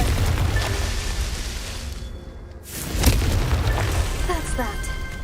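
A Confringo spell explodes in a video game with a single deep, booming blast. A short lull comes before it, then the blast and a lingering rumble follow, and a voice speaks over the game sound.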